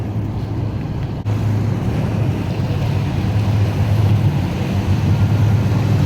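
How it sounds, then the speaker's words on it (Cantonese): A small harbour ferry docking at a pier in Hong Kong, with a continuous low engine rumble, sloshing water and wind buffeting the microphone, close and steady throughout with no talk. "船啊埋灣啦，細船好泊灣啦。"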